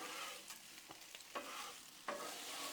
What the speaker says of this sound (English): let's stir our tortellini around a little bit because it's already starting to soften up some